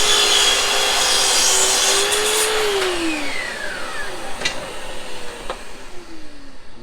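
A miter saw cutting a 45-degree miter in wood for a cabin attic hatch roars loudly up close, then winds down with a falling whine and fading motor hum.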